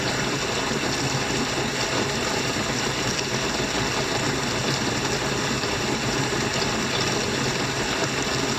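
A battery-powered bilge pump runs steadily on a boat, giving off a constant rushing hum of pumped water with no letup, moderately loud and close.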